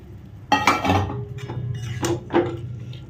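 Tarka dal goes into a pan of cooked-down soybean mixture, with close clinks and scraping clatter of a utensil against the pan in a few quick bursts, moderately loud with no talk.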